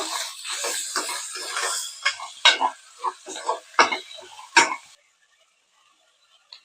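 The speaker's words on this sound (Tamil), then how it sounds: "இது போட்டுட்டு நல்லா வதக்கி விடுங்க." Mint and coriander leaves are stirred and sautéed in biryani masala in a pan, a close hissing sizzle broken by scraping spatula strokes and clinks, before the cooking sound cuts off into near silence.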